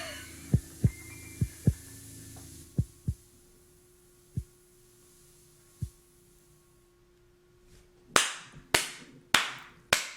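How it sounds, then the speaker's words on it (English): Heartbeat thumps open a song: soft paired low thuds that slow and space out over a steady hum, then end in a few sharp, loud, clap-like hits. "Leave it with a heartbeat."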